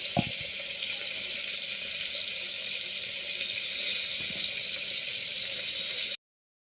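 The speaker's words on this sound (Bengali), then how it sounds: "পটলগুলো আবার কাটা শেষ ধুয়ে নিয়েছি" Tap water runs steadily over freshly cut pointed gourds being rinsed, a continuous close hiss with a sharp clink near the start.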